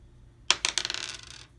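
Dice from the Steampunk Rally board game dropped onto a hard surface, one clear strike followed by a quick rattling series of bounces that settle in about a second, close and alone in a quiet room.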